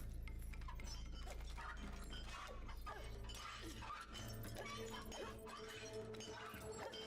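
Stained glass shattering in a video game, a loud, dense crash of breaking glass that fills the whole stretch over steady game music and noise.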